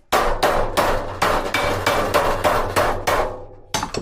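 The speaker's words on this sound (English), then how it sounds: "after you hammer the louver in, you got to come back and" Sharp, loud hammer blows strike sheet metal louvers flat in a steady rhythm, about a dozen ringing hits in quick succession, with no talking.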